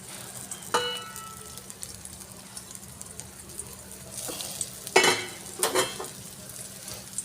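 An egg frying in hot oil in a kadai for an omelet, with a steady close sizzle and crackle, scattered spatters and a couple of brief metallic clinks from utensils.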